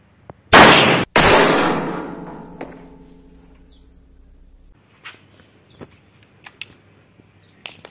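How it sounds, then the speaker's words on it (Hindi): .32 bore revolver shots fired at an iron plate outdoors: two sharp, loud reports in quick succession with a ringing decay, followed by quiet ambience and chirping birds. "32 बोर की गोली से हम पहले फायर करेंगे।"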